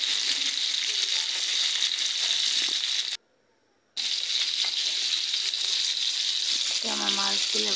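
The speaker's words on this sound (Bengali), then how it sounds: "আমার মাছগুলো ভাজা হয়েছে," Tilapia fish fry in hot oil in a pan, giving a loud, continuous sizzle that cuts out briefly in the middle before resuming at full strength.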